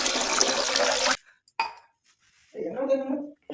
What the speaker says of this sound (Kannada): ಬೌಲಿಗೆ ಒಂದು ಗ್ಲಾಸ್ ನೀರು ಹಾಕೋತೀನಿ